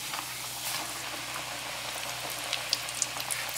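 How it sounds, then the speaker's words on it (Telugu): KFC-style chicken pieces fry in hot oil, giving a steady, dense sizzle and bubbling with a few sharp pops and crackles toward the end, heard close and with no talking. "సో అది ఫ్రై అవుతూ ఉంటుంది."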